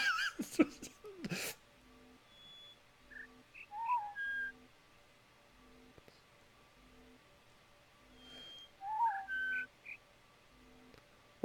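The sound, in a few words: bird chirp in The Witness video game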